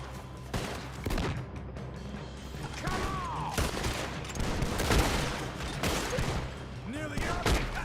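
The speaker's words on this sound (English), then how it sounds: "Arthur with a shotgun is no joke" Shotgun blasts in a Red Dead Redemption 2 gunfight, several sharp booming shots at irregular intervals amid other gunfire and clatter, moderately near, with a voice talking over part of it.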